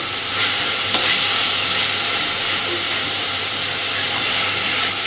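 Bottle gourd leaf paste frying in a pan on a gas flame, a steady close sizzle and hiss with faint stirring scrapes, continuous and alone throughout.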